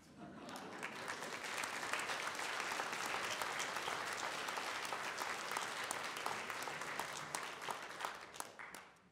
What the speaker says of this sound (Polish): że Państwo tak będziecie oklaskiwać